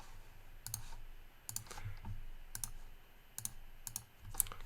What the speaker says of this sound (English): let me type the word action